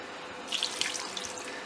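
Water is poured into a pressure cooker holding chicken, potato, spices, garlic paste and green chillies, a short splashing trickle that lasts under two seconds.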